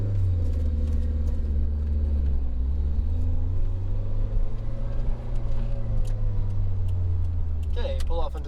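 A modified Toyota AE86 Sprinter Trueno pulls onto the road, its engine giving a loud, steady low rumble close by that shifts slightly in pitch, with a voice talking over it.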